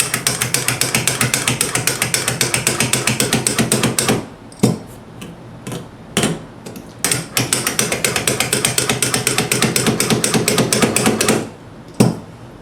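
A bassoon reed cane shaping machine runs with a rapid, steady ratcheting clatter, loud and close, pausing briefly twice with single clicks before resuming the rhythmic grinding.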